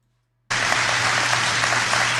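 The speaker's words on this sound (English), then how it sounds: "Look how long you're clapping." Sustained audience applause at a live show, with many hands clapping densely and steadily, starting abruptly after a brief silence and continuing loud and unbroken to the end.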